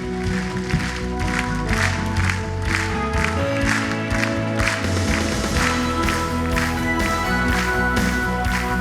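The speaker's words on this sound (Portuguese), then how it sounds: "Vamos aplaudir a Jesus?" A church congregation claps along during a worship song, rhythmic applause mixed under loud sustained music with deep bass and keyboard tones, the clapping riding steadily across the whole passage.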